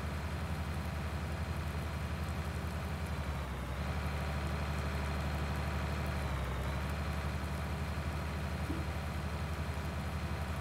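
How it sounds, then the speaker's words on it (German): Tractor engine in Farming Simulator 19, idling in a steady, loud low rumble that runs throughout, with two brief drops in tone along the way and no speech over it. "Wollte den Traktor aber noch zurückfahren"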